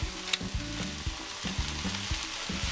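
Shrimp and tomatoes saute in olive oil with paprika and black pepper, giving a steady close sizzle broken by repeated clanks and scrapes of stirring at an irregular rhythm, with no talking.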